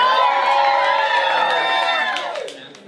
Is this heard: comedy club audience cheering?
yes